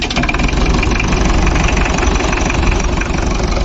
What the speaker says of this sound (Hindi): तुषार भाई ट्रैक्टर को स्टार्ट करो एक बार